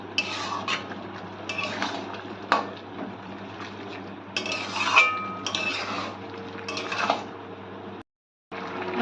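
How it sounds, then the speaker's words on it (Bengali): Metal utensil scraping and clinking against a pan while fried prawns are stirred into bottle gourd greens, in irregular bursts of clatter with short pauses and a brief silence near the end. "চিংড়ি মাছ দিয়ে ভালো করে মিশিয়ে নেব।"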